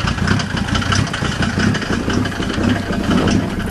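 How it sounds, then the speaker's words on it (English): The straight-piped diesel engine of a 1990 Mercedes 300D, with no catalytic converter or muffler, idles loudly and roughly nearby, a raw, unmuffled chugging with a steady low rumble throughout. "It's pretty loud because there's no catalytic converter or a muffler"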